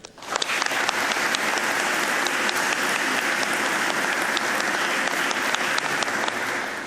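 Loud, dense audience applause at a retirement ceremony, sustained and even from start to finish with no talk over it.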